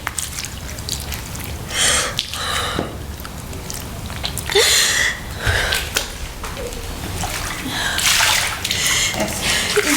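Water splashing and sloshing in uneven bursts, loud and close, as someone struggles to swim in deep water, with drips and gurgles between the surges and no talk.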